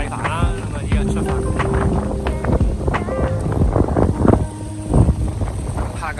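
A catamaran under main and small sail off Auckland, with wind buffeting the microphone and water rushing past the hull while people talk over it throughout.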